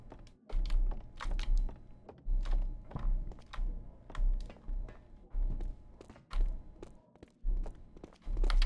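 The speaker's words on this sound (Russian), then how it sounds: "Я слышу чьи-то шаги." Dull footsteps thud in the Max Payne 2 video game with the Payne Evolution mod, a rhythmic run of soft, close thumps separated by short pauses.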